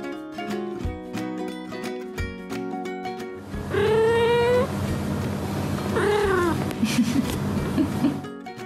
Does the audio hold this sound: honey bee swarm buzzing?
no